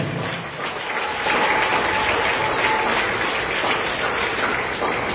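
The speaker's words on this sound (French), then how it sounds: "Est-ce qu'on peut applaudir pour la vision?" Church congregation applauding together after a call to clap during a sermon, a dense, steady wash of hand claps that swells after the first second and holds loud and even to the end, with no talking over it.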